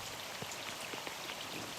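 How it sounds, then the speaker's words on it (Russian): Light drizzling rain in autumn over the Volga delta, a steady soft hiss of fine drops with faint scattered patters throughout, no voices. "Все чаще моросит мелкий дождь и дуют холодные ветра."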